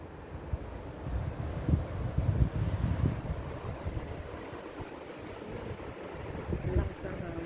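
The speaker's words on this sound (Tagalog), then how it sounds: "Lakas ng hangin." Strong gusty wind buffets a hilltop in Hong Kong, roaring and rumbling against the microphone in uneven surges, with faint voices partly buried under the blustering.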